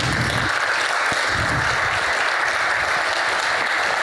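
Single men in the audience at an annual church-style gathering clap together, a continuous, even wash of applause from a large room that holds steady throughout.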